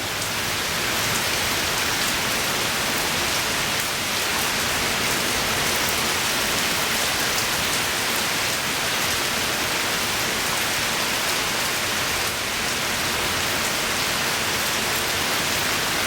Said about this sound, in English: Awful bit of rain.